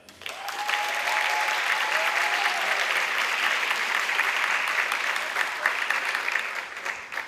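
An audience applauds the 8th grade jazz band at a school concert, steady dense clapping that swells quickly and holds for several seconds before tapering, with a faint voice briefly heard early on.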